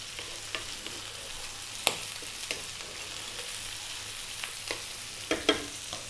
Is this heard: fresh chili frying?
yes